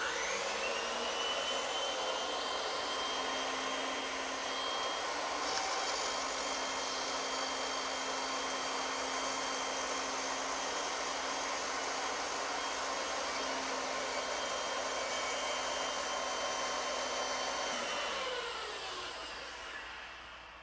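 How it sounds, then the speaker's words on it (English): A bandsaw cutting out wooden rocking horse side pieces, a steady motor whine with a sustained cutting tone that holds for most of the run before winding down near the end, loud and alone. "ideally, it's nice to have a bandsaw like this one"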